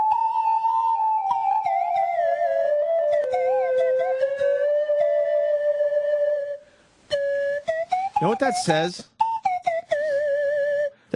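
A shrill whistle plays a sustained wavering tone with slides and warbles, cutting out briefly before resuming; a voice speaks briefly.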